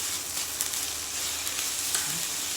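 Spinach sautéing over a high heat burner, a dense, even sizzle that fills the whole stretch, close and loud with no talking.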